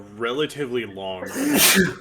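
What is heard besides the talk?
sneeze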